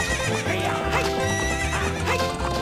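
A horse neighs and gallops with rhythmic clip-clop hoofbeats during a horse race in The Legend of Zelda: Ocarina of Time, loud and close against game music, with no voice.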